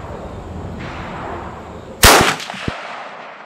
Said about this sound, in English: All right, first shot here.